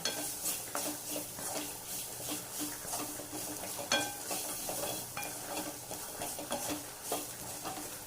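Cut beetroot for a dry stir-fry sautéed in a pan, with repeated spatula scrapes and clinks over a continuous close sizzle, in a steady rhythm and with no talking.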